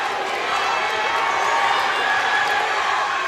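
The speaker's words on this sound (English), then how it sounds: "Crowd's getting into it now," High school varsity basketball crowd cheering and roaring in a gym, a dense, loud, continuous wall of noise with voices blended into it and no clear single speaker.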